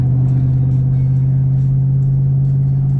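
A truck engine revs briefly as the driver gives it a little gas, a steady low rumble holding close and loud throughout the short stretch.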